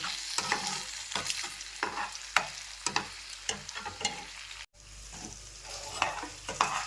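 Egg and potato mixture being stirred in a hot, spiced pan, with a steady sizzle and repeated scraping strokes of the spoon, close and clear with no talking.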